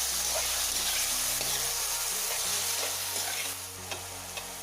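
Pineapple chutney with bay leaf and cinnamon is stirred in a hot pan. A soft, continuous sizzle carries scraping spoon strokes and a few light taps against the pan, close by and without talking.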